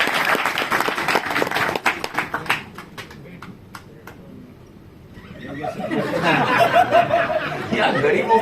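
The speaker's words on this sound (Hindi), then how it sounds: "तालियां होनी चाहिए यार" A small crowd at a Goa shop gathering claps with laughter and chatter mixed in. Bursts of clapping come first, then a brief lull, then renewed noisy crowd sound with voices over it.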